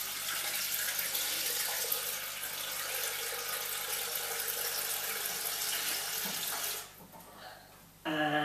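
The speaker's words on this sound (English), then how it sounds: "And then I just top up the bottle with beer." Beer poured from a jug into a bottle while home-brewing a Guinness-clone real ale gives a steady, close liquid rush that runs for several seconds, breaks off briefly, then resumes with a rising filling tone.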